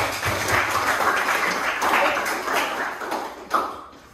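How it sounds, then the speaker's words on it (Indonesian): Applause from an audience at a classroom discussion on Pancasila democracy, a sustained crowd of clapping hands at moderate level that fades near the end, with a brief thump toward the close. "Tepuk tangan sekali lagi untuk kita semua."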